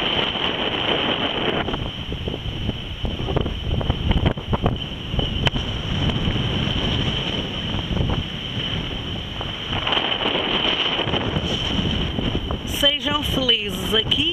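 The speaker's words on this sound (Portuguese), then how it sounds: "Assim o vento que me refresca o rosto, me afasta os cabelos" Wind at Fragosa beach in Aver-o-Mar, Póvoa de Varzim, at sunset, a steady gusting rush buffeting the microphone with a faint surf wash beneath, and a voice talking over it for most of the stretch.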